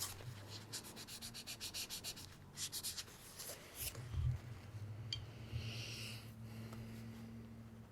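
A pencil shades on paper in quick, rhythmic scratchy strokes up close, followed by a softer stretch of rubbing with a low murmur of breathing or voice underneath.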